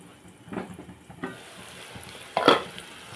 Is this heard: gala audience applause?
no